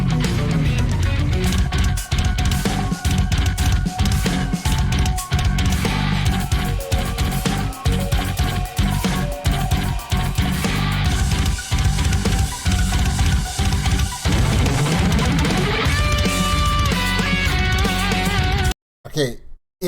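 Djent metal: loud, dense, heavily distorted guitars play tight syncopated chugging riffs with pounding drums, continuous throughout and cutting off abruptly near the end.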